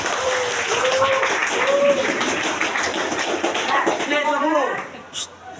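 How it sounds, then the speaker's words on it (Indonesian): Classroom applause from students during a physics lesson, a burst of brisk clapping with voices talking over it, fading out near the end. "Tepuk tangan untuk kita semua."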